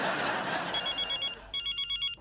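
A telephone rings in a Hindi TV comedy, sounding as two bursts of rapid electronic trilling pulses that follow a stretch of noisy background clatter.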